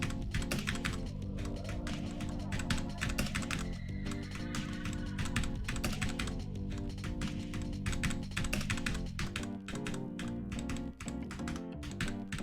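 Rapid, continuous keystrokes on a computer keyboard during a Sequence Storm PC game session, tapping steadily and close up under loud rhythmic game music throughout.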